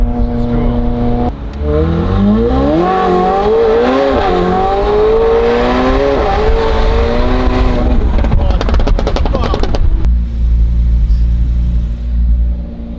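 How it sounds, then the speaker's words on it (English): A McLaren 720S with downpipes, full exhaust and a stage 2 tune roars loud and close, revving up through rising gears with a sharp crackle and shift before settling into a deep rumble. "We just finished the 720S McLaren, downpipes, full exhaust, stage 2 tune."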